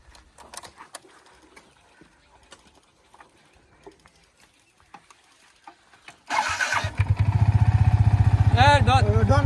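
A motorcycle engine cranks and catches, then idles in a loud, steady throb, following quieter scuffs and clicks and a bird in the background.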